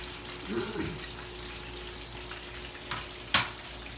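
Garlic and onions fry in a pan for a simple home-cooked tilapia dish, giving a soft, steady sizzle. Two brief clinks near the end rise above it.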